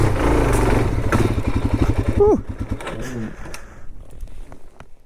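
A Suzuki DRZ400 dual sport motorcycle chugs and revs close by while riding off-road near a steep hill, the engine note rising then easing off as a rider's voice talks over it.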